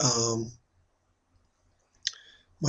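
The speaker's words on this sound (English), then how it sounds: "So I click on that." A single sharp computer mouse click sounds close by between stretches of someone talking while backing up photos on a PC.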